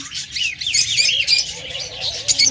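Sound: Fischer's lovebird chirping

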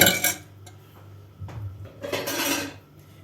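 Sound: whisking börek batter mixture with a whisk

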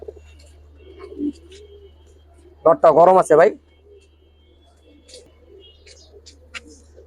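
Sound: pigeons cooing

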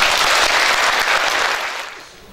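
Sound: applause for staff

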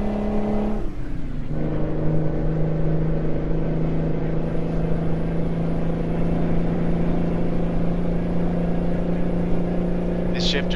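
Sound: Mack Superliner truck engine with turbo in American Truck Simulator video game

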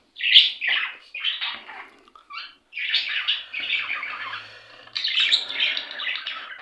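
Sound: budgerigars squawking and chirping

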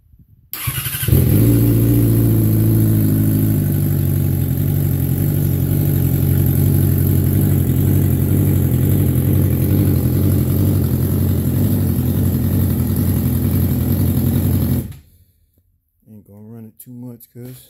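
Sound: 2012 Yamaha R6 motorcycle engine starting and revving

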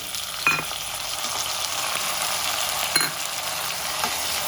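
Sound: tomatoes frying with salt in pan

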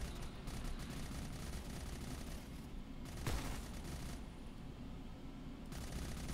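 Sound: gunfire in the menu of video game Hellbreach: Vegas

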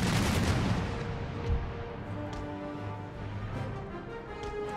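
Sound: cannon gunfire in naval battle, video game Empire Total War

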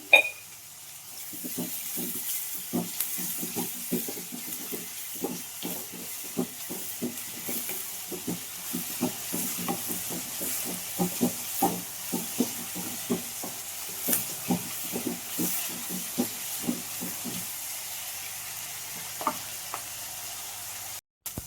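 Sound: onions frying in a pan with salt

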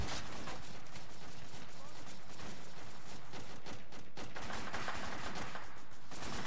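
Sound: gunfire in a video game

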